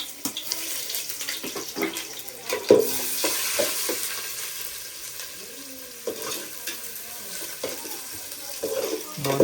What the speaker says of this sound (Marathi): फोडणी चालू आहे